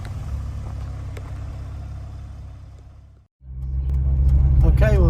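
Engine of a 1988 second-generation Ford Escort XR3i idling close by, cutting briefly before rising again as the car pulls away, with a person speaking near the end.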